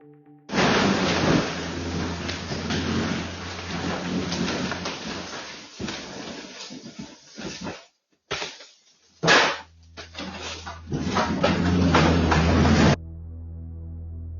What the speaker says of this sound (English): That sound is bits and pieces, chunks of the ceiling falling everywhere